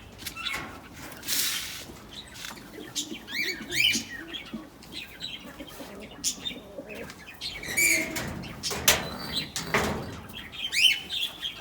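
A breeding pigeon about two years old flaps its wings in bursts as it flies, with soft chirps and coos from birds in between.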